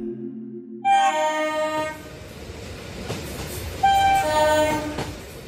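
A train departing Sealdah station sounds two loud horn blasts, the first near the start and the second toward the end, over steady rumbling rail noise with no talk.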